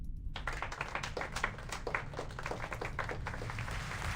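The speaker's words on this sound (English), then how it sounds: "At first, there are just a few scattered claps, but the applause quickly turns thunderous" Audience applause from a crowd in Reverse: 1999, starting as a few scattered claps and swelling into dense, sustained clapping that carries on steadily throughout with no talking.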